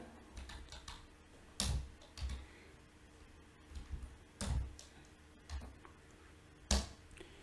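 Someone types on a computer keyboard in a few sparse, quiet clusters of key clicks with heavier keystrokes standing out, close by in a quiet room.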